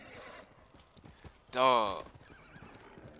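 In the video game Ghost of Tsushima, a horse lets out a loud, close whinny mid-clip, with clip-clopping hooves underneath and someone talking briefly over the game sounds.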